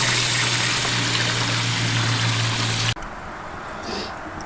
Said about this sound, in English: So make sure you flush the new filters for about 3 minutes before you hook it up to your system.